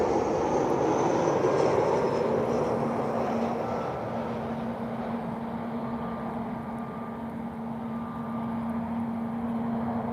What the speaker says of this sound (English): And we have the Swiss Airlines, an Airbus